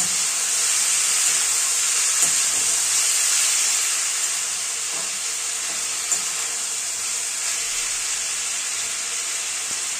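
Marinated chicken ingredients sizzle steadily in hot oil that was used to fry meat, with a continuous bright hiss and faint scraping of stirring running evenly throughout.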